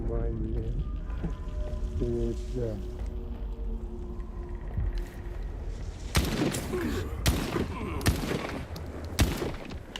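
A few sharp gunshots ring out in a video game, spaced irregularly over the last few seconds, following a stretch of tonal game sounds and louder than the talk around them.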